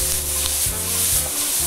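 Shallots sizzle in a pan with small knobs of butter, a steady close frying hiss with a low bubbling rumble that swells and pulses every half second or so, no voices over it.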